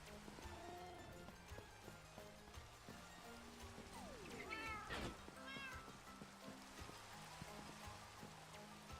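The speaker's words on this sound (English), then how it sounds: "Where is the cat? Come down, cat." A cat in a video game lets out a couple of short meows midway through a busy, steady in-game backdrop of layered tones and noise, with no one talking.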